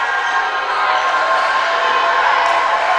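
Irish student section crowd noise at a high school basketball game, a steady, fairly distant roar of cheering that runs continuously through the whole moment.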